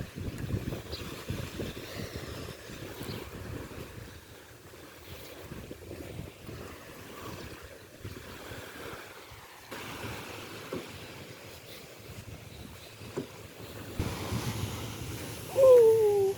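Calm sea waves wash against the shore at a Bicol beach, a soft, continuous rushing mixed with gusty wind buffeting the microphone, with no voices.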